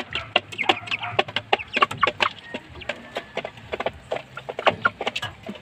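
Chicks kept under a light for the night peep and cheep constantly at close range in quick overlapping calls, with soft scratching and pecking in between.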